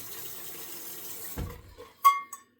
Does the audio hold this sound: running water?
yes